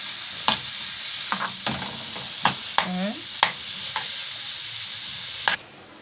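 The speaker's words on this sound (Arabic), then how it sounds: "حطيت الزبده على البوتاجاز معلقه، وهنزل بالبصل عليها" Onion fries in a spoonful of butter in a pan on a stove: a soft, low sizzle broken by sharp scrapes and clicks as a spoon stirs it, all close and quiet.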